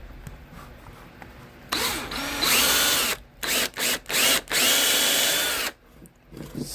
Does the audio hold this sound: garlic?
no